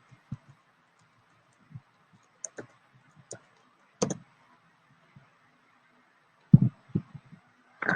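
A computer mouse and keyboard are used in a quiet room: sparse, crisp clicks and short key taps scattered irregularly, with a small cluster of quicker taps toward the end.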